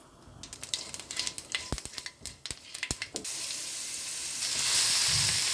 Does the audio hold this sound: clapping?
no